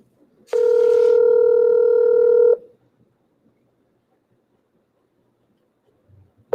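A telephone gives one sustained dial-tone-like beep for about two seconds, followed by near silence, and then a new tone starts right at the end.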